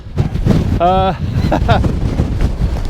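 Loud gusty wind buffets the microphone on the exposed hilltop of Ros Castle, Northumbria, a continuous roar with a brief voice cutting through.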